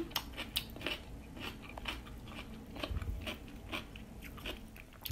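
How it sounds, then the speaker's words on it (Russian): Crisp, loud crunching bites into a spicy lightly salted pickled cucumber, repeated in a quick irregular rhythm, close up with no talking. "Слышно, как хрустит?"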